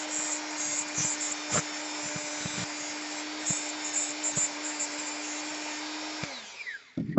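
A power grinder works steadily on a metal bike chain jockey gear with a loud, even whine and occasional scraping contacts, then the motor cuts off and spins down near the end.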